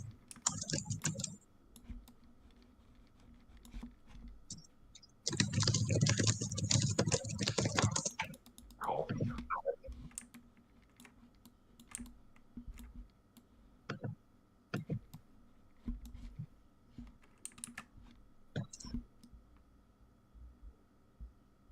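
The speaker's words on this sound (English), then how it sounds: "I can hear you typing away." Quick bursts of computer keyboard typing, with a dense flurry in the middle and scattered keystrokes after, over a low steady hum.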